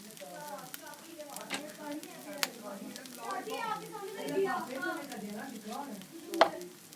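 Ghee sizzles and crackles softly in a pan while a Lahori egg tikki fries, with a steady low fizz and occasional stirring scrapes under a voice talking.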